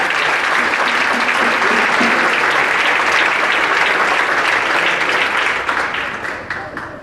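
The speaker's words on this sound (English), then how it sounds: "let's give another round of applause" An audience at a ceremony claps in a loud, sustained round of applause that holds steady, then thins and fades out over the last second or so.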